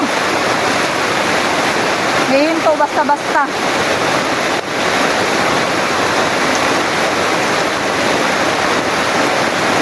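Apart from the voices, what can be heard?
heavy rain during flooding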